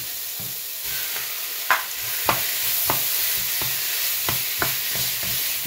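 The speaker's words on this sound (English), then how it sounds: "That's sizzling away nicely." Chicken, onion and peppers fry in a pan, a steady bright sizzle and hiss running throughout, punctuated by regular scraping stirs and taps of a utensil, close and alone with no talking.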